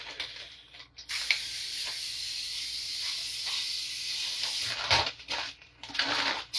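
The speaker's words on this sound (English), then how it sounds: "Spray this olive oil." An olive oil cooking spray hisses steadily for several seconds, broken by short pauses and quick bursts near the end.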